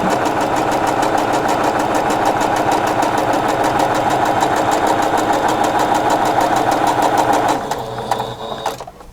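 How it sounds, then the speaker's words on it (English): A sewing machine stitches a quarter-inch seam on a quilt block, a fast steady mechanical whirr with rapid needle rhythm, close and loud, slowing and stopping near the end. "I'm just going to sew 1/4 of an inch away from that line on both sides"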